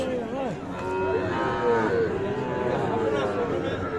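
A young heifer calf, about three months old, moos repeatedly at a busy cattle market in Ambari, its calls close and loud over steady crowd murmur and other livestock.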